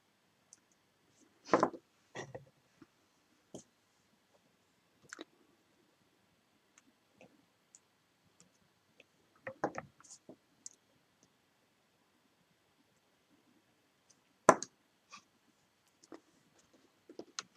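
Wire is snipped and handled while wrapping a 20mm malachite heart pendant, giving sparse, sharp little clicks and ticks at irregular intervals over near silence, with a few slightly louder snaps, close and faint, with no talk.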